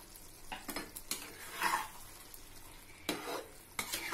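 Jackfruit dal with garam masala and ghee is stirred in a pot, heard as soft, close scraping and clinking of a spoon in irregular strokes with a faint sizzle underneath, quiet and without talk.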